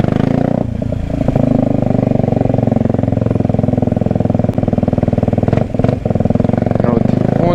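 Kawasaki Ninja 125 motorcycle exhaust idling loud and close, a fast, steady rattling pulse with a few short blips of the throttle near the end.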